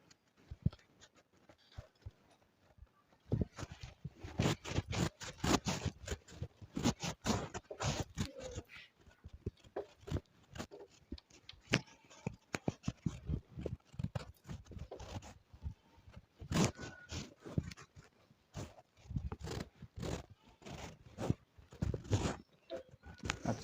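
Rapid rubbing and wiping strokes across a classroom board as it is cleared after a maths lesson, close and fairly faint, in irregular bursts with short pauses and little talk.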